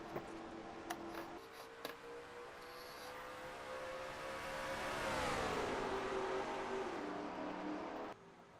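Simulated race cars in a video game racing sim roll off at the green flag of a stock-car style race, engines droning and rising together in a steady, fairly loud pack roar with no talk.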